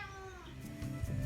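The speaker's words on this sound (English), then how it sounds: "it's going to be a very cat-centric episode, by the way, because he's been bugging me all day" A cat meows close by in one drawn-out, tonal call, followed by low rumbling noise and a slight rise in loudness toward the end.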